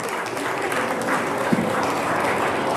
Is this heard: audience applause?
yes